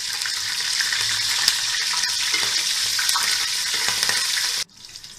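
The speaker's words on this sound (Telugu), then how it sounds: "పచ్చిమిరపకాయలు వేసుకుని కలుపుకోవాలి." Green chillies fry in oil in a hot kadai, giving a loud, dense crackling sizzle with a few stirring scrapes. The sizzle cuts off abruptly near the end and leaves quiet.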